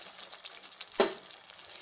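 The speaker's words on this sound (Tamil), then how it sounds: "நான் தேங்காய் அரைக்கும் போது எடுத்து வச்ச தண்ணி வாஷ் பண்ணி அதை நான் இதில் சேர்த்துக்கிறேன்" Water splashes into a pan of mutton kuzhambu, a traditional Tamil curry, in one brief pour over a low, steady sizzle of the cooking pan. No one speaks.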